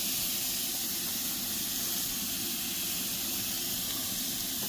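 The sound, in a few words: baby back ribs searing on a Blackstone griddle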